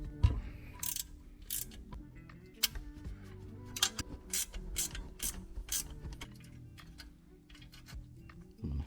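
A ratchet turning a 10 mm bolt on the shifter linkage of a USDM Ford Fiesta ST, with faint, close bursts of clicking strokes and small metallic taps repeated across the clip.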